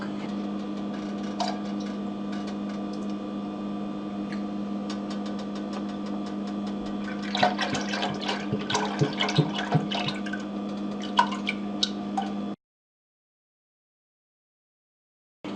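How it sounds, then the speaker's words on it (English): Half a gallon of milk is poured into a 2-quart saucepan, giving a run of soft splashes over a steady kitchen hum before the sound cuts to silence. "we're going to use a 2-quart saucepan, and we're going to add a half a gallon of milk"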